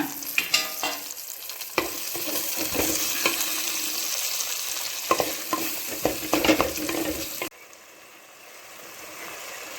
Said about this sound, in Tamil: வெங்காயம் வதங்கினதும் அது கூட தக்காளி சேர்த்து நல்லா வதக்கிக்கிங்க